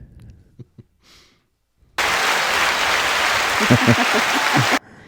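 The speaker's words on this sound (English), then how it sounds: "Please give him a round of applause, everybody." Applause from a gathered group greeting someone introduced on a Wednesday morning, a steady dense clatter of clapping lasting about three seconds after a few quiet moments and brief breathing sounds.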